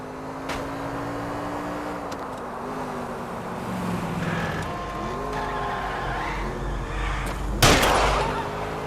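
A car tearing along in an L.A. Noire chase, engine whining and shifting pitch, with tires squealing through turns and a sharp crack near the end; loud and continuous.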